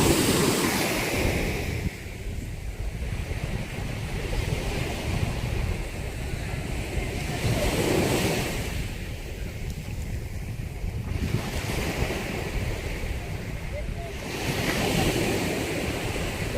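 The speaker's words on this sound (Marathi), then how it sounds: "लाट आली, मोठी आली" Large ocean waves break on the shore in slow repeated surges, each swelling and fading, with steady wind buffeting the microphone and no talk.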